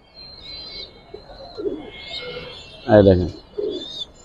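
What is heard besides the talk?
Giribaz pigeons cooing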